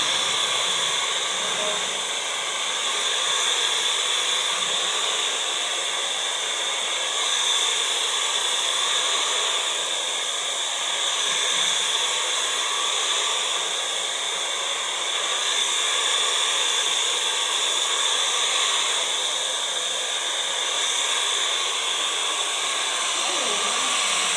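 A hair dryer blows with a constant, loud, hissing whoosh that runs without a break throughout, a steady airy roar close to the listener.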